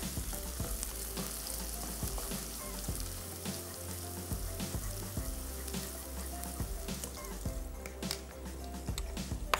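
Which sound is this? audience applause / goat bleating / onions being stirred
onions being stirred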